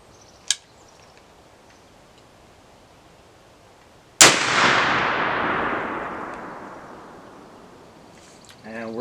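A muzzleloader rifle fires one shot loaded with 45 grains of 3F powder: a single sharp, loud crack followed by a long fading outdoor echo, with a faint click a few seconds before.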